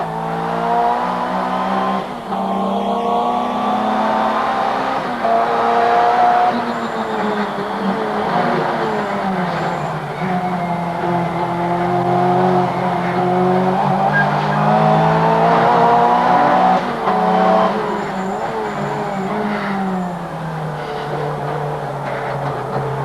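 A Group A racing car cornering hard, engine note rising and falling through gear changes under sustained tire squeal, loud and close for over twenty seconds without speech.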